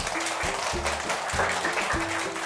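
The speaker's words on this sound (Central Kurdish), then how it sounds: "چەپڵە بۆ مامۆستا پرشنگ" Students clap for their mathematics teacher at a new school year welcome for first-grade pupils, a steady wash of crowd applause that sounds dense and continuous throughout, with faint tones sitting underneath.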